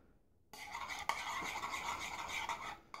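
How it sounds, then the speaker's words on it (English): A spoon stirs a thick gummy worm mixture in a pot, making a continuous close scraping and swishing after a quiet start, with one sharp clink partway through and no speech. "You could use a whisk, I'm just using a spoon."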